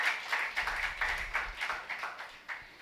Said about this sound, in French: Let us clap for the gospel.